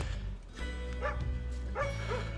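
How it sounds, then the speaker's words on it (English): A dog barks a few times in the distance, faint and short, on a countryside walking route near Low Dinsdale Church along the Teesdale Way, with a low outdoor background hum. "who can hear the dog?"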